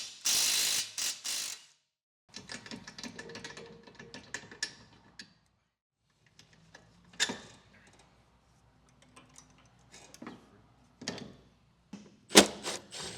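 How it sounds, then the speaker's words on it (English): A socket ratchet and wrench work loose the 22 mm lower strut mount bolts on a Toyota Corolla iM, making scattered clicking and ratcheting bursts with quiet gaps between them and a sharp metallic clank near the end. "Use a 22 mm socket and wrench to remove the lower mount bolts."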